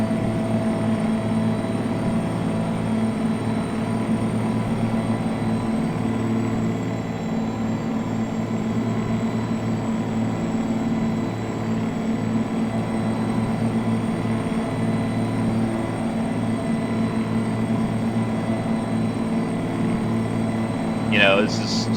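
A Mack R truck with a mechanical two-stroke engine in American Truck Simulator, droning steadily with a deep, buzzing low rumble and a high whine that shifts slightly, loud and continuous throughout.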